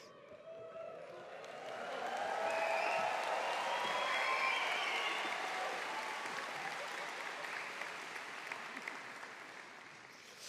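Audience at a Cardiff University graduation ceremony claps and whoops, swelling after two seconds into sustained loud applause with cheers, then slowly easing while still going.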